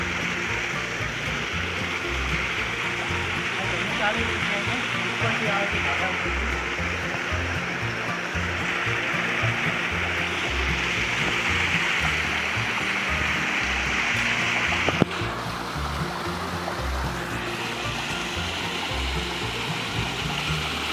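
A mountain stream near a Mahadev temple rushes steadily and close by, a continuous broadband roar of flowing water with no voices over it.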